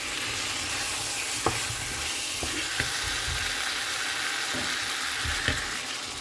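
Cauliflower florets and potato pieces frying in a pan for aloo gobi, a steady soft sizzle with a few sharp scrapes and clinks of a spoon stirring at intervals.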